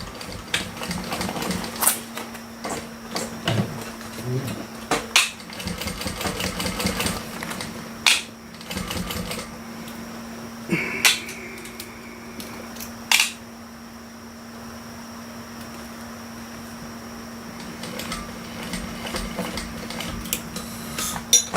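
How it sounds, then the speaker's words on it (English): A sewing machine stitches a Lyra bag in short, uneven bursts of mechanical clatter with pauses between runs, close by and alone. "let's start sewing"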